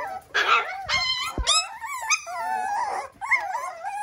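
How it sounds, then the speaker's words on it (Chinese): Rescued stray dogs waiting for soaked kibble whine, yelp and yip in high, wavering cries close by, several voices overlapping almost without pause, with a single sharp knock partway through. "都是又开始哇哇叫啊，又开始哇哇叫啊。"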